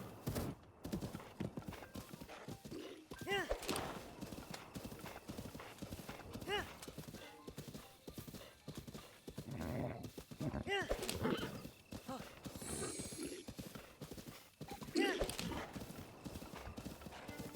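Horse hooves clip-clop steadily through Zelda: Breath of the Wild as a mount is ridden, with occasional neighs and whinnies over game music and sound effects, while a person talks intermittently over the gallop.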